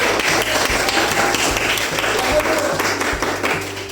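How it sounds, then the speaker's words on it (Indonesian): Students in a classroom during a lesson on the traditional hopscotch game engklek applaud together, a loud continuous burst of clapping with some voices mixed in. "Tepuk tangan dulu."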